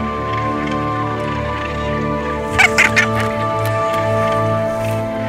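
Northern gannets calling at a breeding colony on Sept-Îles, Brittany, in a short cluster of harsh, raspy cries rising over a steady tonal drone, then fading back into the background.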